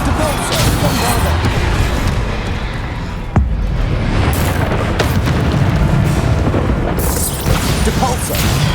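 Bombarda blasting spell going off in Hogwarts Legacy amid busy combat, a loud booming burst with a sharp crack partway through, surrounded by continuous rumbling and clatter of other spell effects.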